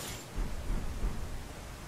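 Rain of Arrows ash of war in Elden Ring unleashing a volley, a dense rumbling patter with low thumps and a steady rushing wash throughout, heard alone.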